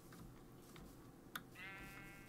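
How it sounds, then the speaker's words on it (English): A faint Minecraft sheep bleat rises briefly over a steady low background hum, with a single sharp click just before it. "I just heard a sheep."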